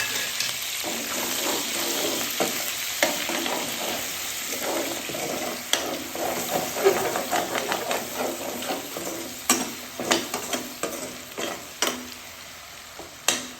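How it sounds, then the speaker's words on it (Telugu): Onions and green chillies fry in oil, giving a bright continuous sizzle near the mic, with spatula strokes growing more frequent and distinct in the second half. "ఇప్పుడు ఇది ఆయిల్లో పచ్చిమిరపకాయలు ఉల్లిపాయలు వేసుకుందాం"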